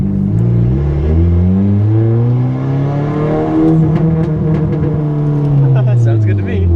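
A stock turbocharged Honda Civic launching under launch control, its engine pitch climbing in a long loud rising drone with a rough rasp from the exhaust, followed by a few sharp pops near the end.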